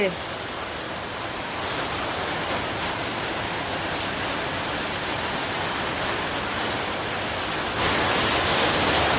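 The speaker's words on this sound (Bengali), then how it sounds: "বড় বড় ফোঁটা দিয়ে বৃষ্টি হচ্ছে, একদম এত সুন্দর বৃষ্টি হচ্ছে।" Heavy rain with big drops falling on a rooftop, a steady dense wash of noise that holds throughout and swells louder near the end, with no voices.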